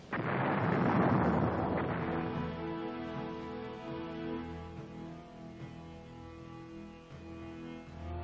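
Artillery fire in a war scene: a deep booming blast opens loud and close, then fades into a long low rumble as sustained droning tones hold underneath.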